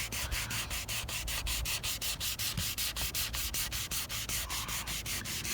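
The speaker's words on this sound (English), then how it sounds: "that's why I like wet sanding, because you just go like that" Rhythmic back-and-forth wet sanding strokes rasp steadily against a primed guitar body, about five per second, close up with no talking.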